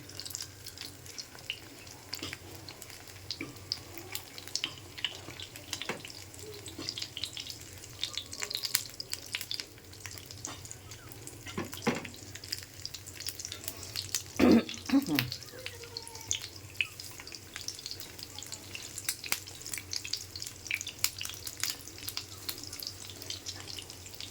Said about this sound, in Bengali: আমি ডিম মেখে মেখে এইভাবে ভাজা দিয়েছি।